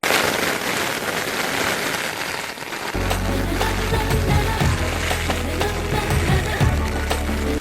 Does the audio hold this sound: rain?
yes